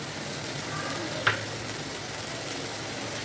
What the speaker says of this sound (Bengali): পেঁয়াজ, আদা, কাঁচা লঙ্কা, সেটা আমি পুরো এর মধ্যে দিয়ে এবার ভালো করে ভেজে নেব